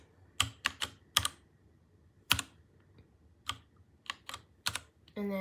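Typing on a 75% mechanical gaming keyboard with red switches: close, crisp clusters of key clacks in an irregular rhythm with quiet gaps, ending in a short sustained tone.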